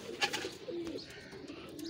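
Soft pigeon cooing close by, a few low throaty coos amid light background noise and faint bird chatter.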